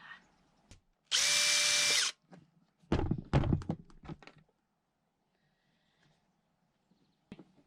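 Power drill boring a hole on an off-grid homestead water system, one steady whine about a second long, followed by a few clattering knocks and thuds and a faint tap near the end.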